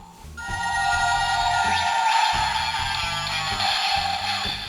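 A Selection Modification Double Driver toy transformation belt plays continuously: bright ringing tones and a melodic jingle with steady, pulsing beats, loud and close, with no talking.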